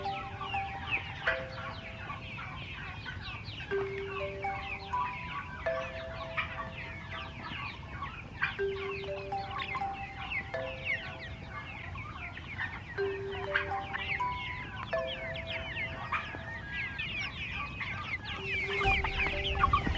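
A large flock of more than a hundred farm chickens clucks at feeding time, with dense overlapping clucks and short repeated calls close by and continuous throughout.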